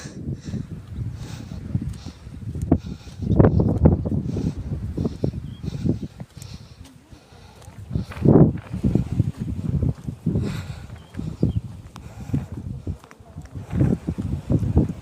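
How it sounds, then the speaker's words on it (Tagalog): Strong, cold wind gusts outdoors near a ravine buffet the microphone in uneven, rumbling bursts that swell and fade throughout, with faint talk now and then. "Ang lakas ng hangin."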